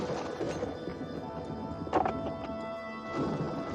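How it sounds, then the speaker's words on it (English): A horse moves with hooves clip-clopping in a steady rhythm over a dense, rumbling film soundtrack, with a couple of louder impacts partway through during a horseback pursuit. "he pursues the suspects on horseback"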